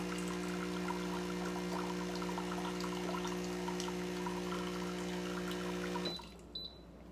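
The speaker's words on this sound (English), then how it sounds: "The machine's gonna draw water out." An EspressoWorks AEW-3000 espresso machine draws water and dispenses it into a cup with a steady pump hum and trickle, stopping abruptly near the end, followed by a brief faint beep.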